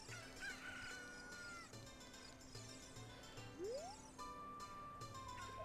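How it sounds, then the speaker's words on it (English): A cucco chicken in the video game Zelda Ocarina of Time, clucking and giving crowing calls over soft, steady game music. "How about if I pick up the chicken?"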